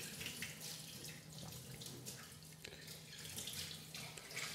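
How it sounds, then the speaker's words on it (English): A part of an Angel juicer rinsed under a running kitchen tap, a continuous close hiss of flowing water splashing into a sink, steady and faint with small shifts as the part moves, no talk. "go ahead and rinse this again like that."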